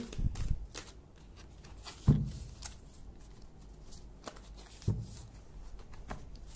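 A tarot deck is shuffled by hand, soft papery riffles and slides with a few sharper card snaps at intervals, close and fairly quiet, with no one talking.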